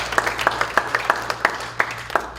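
A small audience at a Korean missionary prayer meeting claps sparsely, a handful of distinct close claps at an uneven rhythm over a quiet hall.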